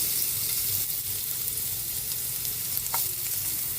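Garlic sautéing in hot oil for lumpiang Shanghai, a steady close sizzle with soft stirring scrapes and no voices.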